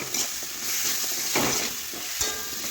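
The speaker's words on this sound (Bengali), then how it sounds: "ভালোভাবে একটু সবজি নাড়াচাড়া করে একটু কষে নেব" Vegetables for Bengali shukto fry and sizzle in a pan while being stirred with turmeric, ginger, cumin and green chili paste, a steady close hiss broken by soft scraping strokes of the spoon.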